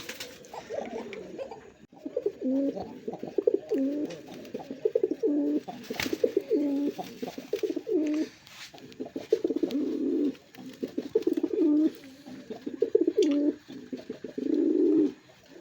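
A pair of native Golla pigeons, both large, cooing close by in repeated low throaty phrases, each burst lasting about a second with short pauses between them, in a fairly quiet space with no talking.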